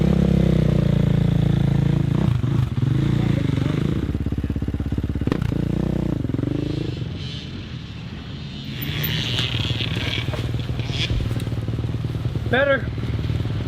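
KTM motocross bike ridden around a track, engine revving and shifting pitch up and down as it passes, loud at first then fading, with people talking over it.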